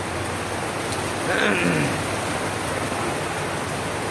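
A thick, steady roar of heavy rain fills the scene, with a brief faint voice-like sound rising over it midway.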